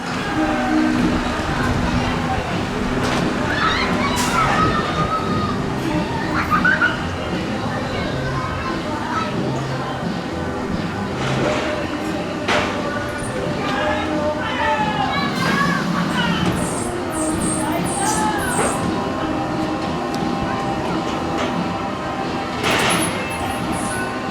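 Cars of the Mad Mouse roller coaster at Scotland's Theme Park rattle and rumble along the track in a loud, continuous roar, with people's voices and shouts mixed in throughout.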